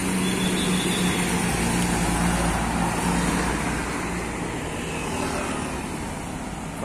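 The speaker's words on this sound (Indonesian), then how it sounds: "Melintas bus" A tour bus passes along the roadside near Galendo 2 in Ciamis as a broad, loud wash of engine and road noise that gradually fades.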